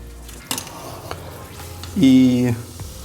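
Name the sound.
stirring lamb khashlama in a pot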